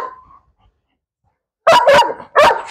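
A Malinois dog gives two or three loud, close barks in quick succession after a short faint whine and a pause of silence.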